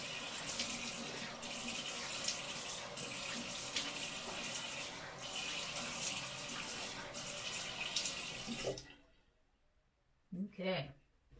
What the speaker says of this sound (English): So I'm going to rinse my face off.